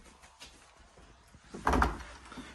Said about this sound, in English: a decent sized shower here with a nice bifold door allowing easy access to get in and out